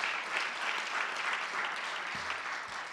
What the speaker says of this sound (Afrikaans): Kom ons gee vir hulle 'n baie lekker groot hande klap.